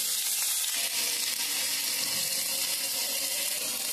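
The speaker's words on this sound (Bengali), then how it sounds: "তেলটা গরম হয়ে গেছে। এবার আমি আলুগুলো ভেজে নেব।" Potatoes fry in hot oil in a kadai (wok) while a dal simmers nearby, giving a steady, dense sizzle that holds close and even throughout, with faint watery undertones and no voices.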